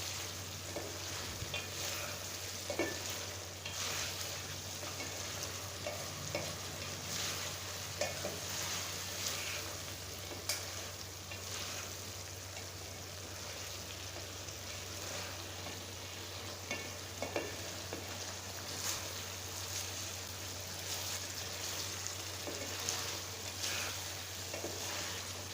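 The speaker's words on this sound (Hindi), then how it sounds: "अब तकरीबन 10-5 मिनट हम इसको और भूनेंगे" Chicken karahi masala fries steadily in a pan, a continuous even sizzle with faint occasional stirring clicks and a low constant hum beneath, no talking.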